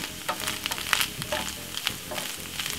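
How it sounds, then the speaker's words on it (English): Quorn meat-free mince sautés in a pan with a steady close sizzle, broken by scattered scrapes and clicks of stirring over about three seconds, with no voices. "So we're just gonna saute this out for about 4 minutes."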